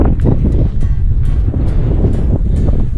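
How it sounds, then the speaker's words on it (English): Wind blowing steadily across an exposed hilltop near Mam Tor in Edale, a loud continuous rumble of buffeting gusts on the microphone with rushing air throughout. "every now and then there's a nice, playful, cool breeze"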